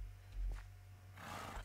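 A horse neighs in the Minecraft video game, a short whinnying cry that rises into a louder, breathy burst near the end, with no talking over it.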